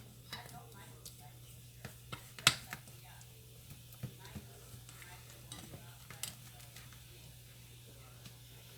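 Fudge cake mixture stirred in a pan: soft scraping and intermittent clicks of a utensil against the pan under a low steady hum, quiet and close, with some faint talk.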